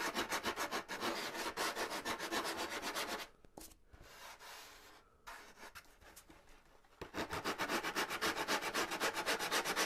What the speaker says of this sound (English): So I like to start off with 80 grit. And I know you're like, oh, 80 grit on balsa wood